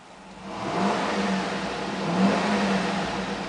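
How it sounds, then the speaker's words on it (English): A 2007 GMC Yukon Denali SUV engine revs twice, rising and easing back in a smooth hum, close by with no talking. "I'm going to go ahead and rev it"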